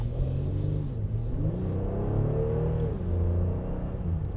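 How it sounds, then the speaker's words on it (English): A 2025 Honda Pilot Elite SUV's V6 engine accelerating onto a highway: a steady, loud cabin drone whose pitch climbs and dips through the gears. No voices. "I hear that V6 engine really kick in there"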